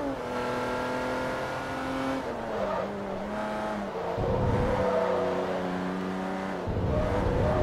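A race car drifts through Mugello's corners in Forza Motorsport 3, its engine note sliding down and climbing back as revs change, with loud tire squeal and skidding layered on top, close and continuous with no talk.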